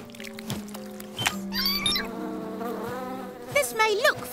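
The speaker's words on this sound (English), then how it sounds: "This may look funny, but flapping our wings is how we make thicker honey." Cartoon bees flap their wings in a loud, close, wavering buzz with shifting pitch, layered over musical tones and small sound effects.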